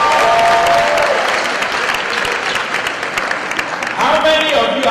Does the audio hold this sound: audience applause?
yes